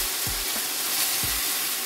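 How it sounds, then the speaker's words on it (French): Wine hits a hot pan during deglazing, giving a close, steady hiss of sizzling with a few soft low knocks from stirring. "je vais le déglacer au vin"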